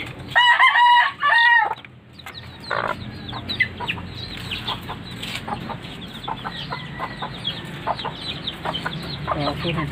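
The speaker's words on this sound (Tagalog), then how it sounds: "Mga hybrid pa naman itong mga manok na to." Hybrid chickens at a rural Filipino yard, a rooster crowing loudly and close at the start, followed by steady clucking and scattered calls from several birds.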